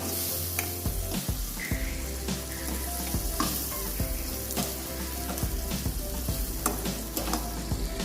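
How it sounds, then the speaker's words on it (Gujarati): Sabudana khichdi with chopped tomato and salt being stirred with a spoon in a hot pan, steady sizzling under repeated scraping and clinking strokes, close and fairly quiet. "હવે તેને સારી રીતે ચમચાની મદદથી મિક્સ કરી લેશું"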